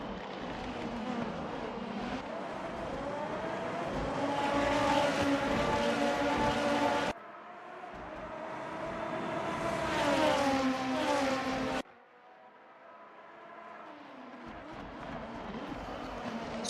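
Super Formula race cars in the Assetto Corsa video game at Bahrain, with high-pitched engines rising and falling through gear changes and abrupt cuts between camera views, loud and continuous.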